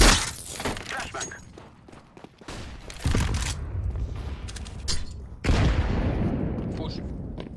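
A flashbang and gunfire in a shooter video game: sharp explosive bursts hit abruptly, followed by crackling, ringing noise, with voices talking in between.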